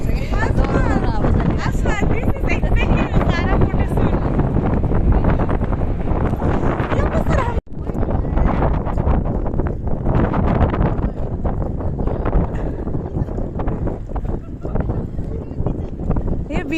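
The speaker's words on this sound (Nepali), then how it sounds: "कस्तो हावा चलेछ" Strong wind roars into the microphone, a loud continuous buffeting rush broken by a brief dropout midway, with voices partly audible beneath it.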